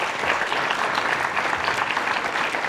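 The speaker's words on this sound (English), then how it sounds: "give Cameron another round of applause" Dense, steady applause from an audience for a guest at a music summit interview, many hands clapping continuously and close throughout, with no speech over it.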